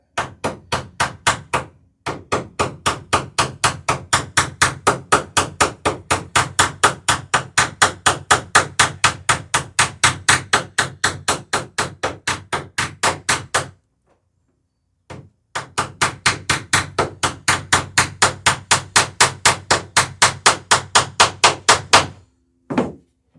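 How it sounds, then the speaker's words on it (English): Rapid, steady hammer blows drive a tight rivet through a tube onto the planking of a wooden dory, dozens of sharp close-up strikes in two long runs separated by a short pause, with no talk. "I'm using this tube to drive on the tight rivet."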